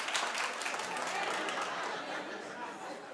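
A television talk show studio audience claps in answer to a host's poll, a steady wash of many hands mixed with murmuring chatter and a few chuckles, fairly loud and sustained before easing slightly.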